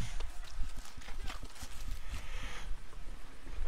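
Horse hooves clip-clopping in a video game, a fast, irregular run of close hoofbeats with background ambience throughout.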